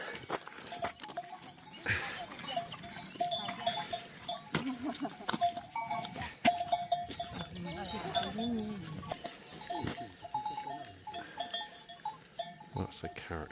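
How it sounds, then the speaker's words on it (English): Small goat bells clank and jingle irregularly as goats move about on the Camino between Villafranca and Atapuerca, with a person talking over them throughout. "A lovely sound with their bells."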